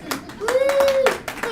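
At a union meeting, a few quick claps ring out close by, with a voice speaking over and between them.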